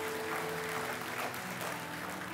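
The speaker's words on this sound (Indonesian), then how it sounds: "Berikan tepuk tangan buat Tuhan," A church congregation applauding during an Advent sermon, a faint, even patter of clapping heard at a distance under a sustained low organ or keyboard tone.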